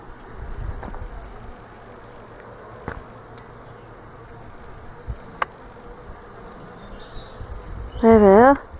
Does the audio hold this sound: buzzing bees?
yes